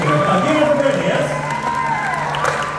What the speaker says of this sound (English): let's give Brittany a nice big round of applause.